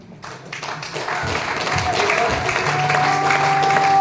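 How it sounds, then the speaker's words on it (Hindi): An audience at a corporate training session claps to honour a guest. The applause swells and holds steady, with a sustained musical tone over the crowd noise. "तालियां बजती रहनी चाहिए।"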